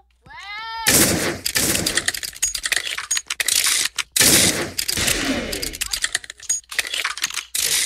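Gunfire from Roblox Murder Mystery 2 sounds in sharp, loud bursts, mixed with rapid keyboard clicking and game effects.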